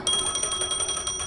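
A phone rings in Honkai: Star Rail, a steady electronic bell trilling in rapid repeated pulses, clear and close with no talk over it.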